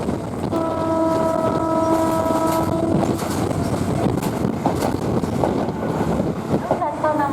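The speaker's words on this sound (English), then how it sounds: "I decided to continue riding the train to Kandy" Passenger train riding through rain to Kandy, Sri Lanka, a loud continuous rumble and rush of wheels and wind, with a sustained horn-like tone early on and occasional rattles.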